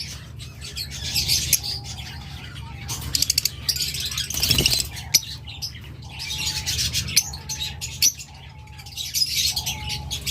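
A pair of green opaline pet birds, the female olive, chirps and tweets in bursts of repeated calls close by, with some wing flutter and a steady low background hum.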